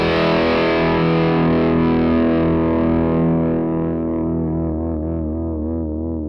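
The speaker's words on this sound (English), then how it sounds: "So the Pierrot pedals, the Pug Fuzz, loving that tone." Electric guitar played through a Pierrot Pedals Pug Fuzz pedal, a loud, thick distorted sustained chord that slowly decays and wavers as it rings out, alone with no talking.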